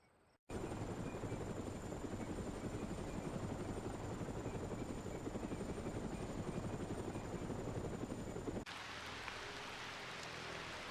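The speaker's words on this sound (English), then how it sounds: "Going up against those gunships, it's madness!" Helicopter gunships in the military video game Operation Flashpoint: Resistance, a loud, steady rotor thump and engine drone that cuts in abruptly, holds for about eight seconds, then drops to a fainter, more distant whir.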